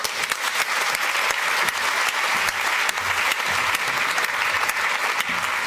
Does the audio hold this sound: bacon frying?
no